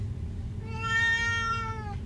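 A domestic cat lets out one long, drawn-out meow close by, rising and falling over about a second and a half, over a low steady background hum.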